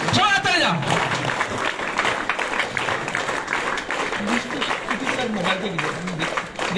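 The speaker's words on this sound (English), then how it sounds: "Give a huge round of applause" An audience at a school ceremony claps and cheers steadily, a dense sustained applause with a voice speaking over it near the start.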